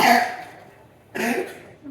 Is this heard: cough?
yes